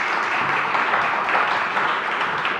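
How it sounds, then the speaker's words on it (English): Audience at a panel event hosted at the EU House applauding, a steady dense wash of clapping that fills the whole stretch at moderate loudness with no talk over it. "A round of applause"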